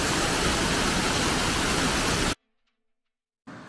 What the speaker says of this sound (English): It's like a double waterfall.